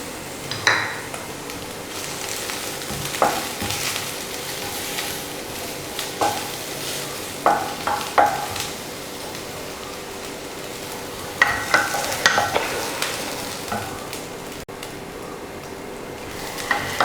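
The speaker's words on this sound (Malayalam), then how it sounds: "ഇനി നമുക്ക് എടുത്ത് വെച്ചിരിക്കുന്ന ക്യാബേജ് ഇട്ട് കൊടുക്കാം." Shredded cabbage is stirred and fried in a pan for omelet noodles, with a low steady sizzle broken by irregular clinks and scrapes of a utensil against the pan, close up.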